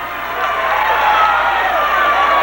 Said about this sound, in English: So the Pontotoc crowd has something to cheer about, and even the North and South fans like that.